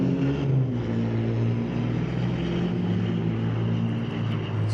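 A 2019 Ford F-350 diesel truck drag races at a diesel event at Mission Raceway Park, a loud, steady engine drone with a deep harmonic hum, heard alone without talk.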